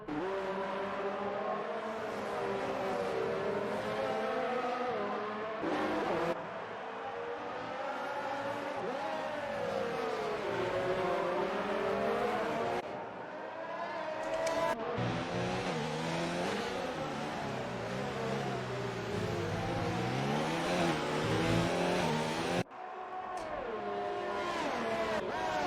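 Formula-style race cars scream around the Mexico track in an Xbox racing game, their engines whining up and down through gear changes in continuous overlapping layers, loud and close, with a few abrupt cuts between camera views.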